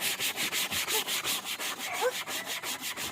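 A hand scrubs a surface in quick, even back-and-forth strokes, roughly four per second, a close rasping rub with a brief voice partway through.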